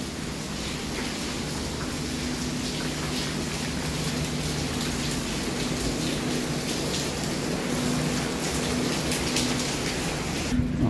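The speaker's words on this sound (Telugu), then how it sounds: "చూసారు ఇదంతా కూడా వర్షమే మొత్తం ఫ్లాట్ల మీద." Heavy rain pours steadily over apartment flats in Israel, a dense continuous hiss with a faint low hum underneath, constant in level throughout and with no voices.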